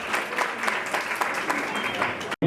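An audience applauds at an evening science talk in a steady, dense wash of claps that keeps going and then cuts off abruptly near the end.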